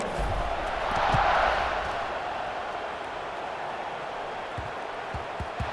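Football stadium crowd roaring as a kickoff in a Dawgs versus Devils game gets underway, a broad steady wash of cheering that swells early then holds at a sustained distant level.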